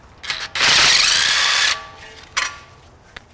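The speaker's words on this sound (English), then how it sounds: "then you can start using power tools to take the rest of it off" A power drill or impact tool whirs loudly for about a second removing a car suspension arm bolt, with a couple of short mechanical clicks and rattles before and after.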